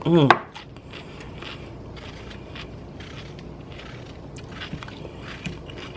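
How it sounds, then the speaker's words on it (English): A knife chops through fresh vegetables and a tomato on a cutting board in a quiet kitchen, giving soft, irregular cutting taps and scrapes at close range. "cutting up this tomato too"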